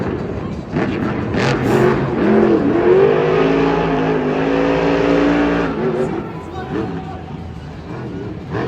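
A monster truck engine roars and revs at a Monster Jam stadium show in Anaheim as the truck attempts a backflip, a loud sustained growl rising and falling under excited commentary.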